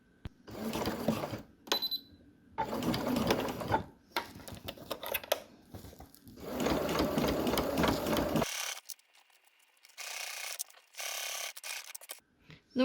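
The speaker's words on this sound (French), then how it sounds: "un petit point à la machine" A sewing machine stitching shut a fabric care bonnet, running in several bursts of steady mechanical whirring separated by short pauses, close and clear with no talking.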